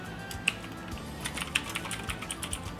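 Fingers type on a computer keyboard, a close, steady patter of irregular key clicks with a few sharper taps standing out, no speech over it.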